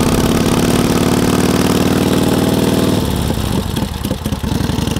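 1931 Indian Scout 101 motorcycle engine idling just after starting, a loud, close, steady thumping beat that loosens into a rougher, more irregular chug partway through.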